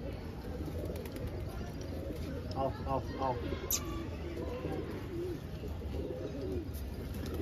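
Pet pigeons coo softly in a loft, a few low rolling calls surfacing amid background noise and a voice speaking nearby.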